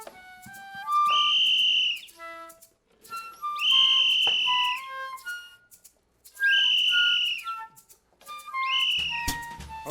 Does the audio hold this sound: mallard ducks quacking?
no